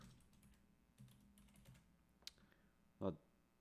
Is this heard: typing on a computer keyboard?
yes